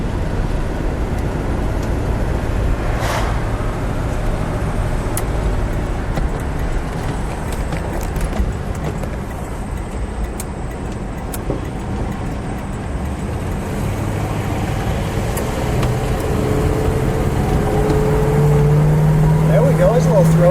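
A 1967 Pontiac GTO hardtop heard from inside during a ride, its engine a steady low rumble blended with road and wind noise throughout, continuous and fairly loud.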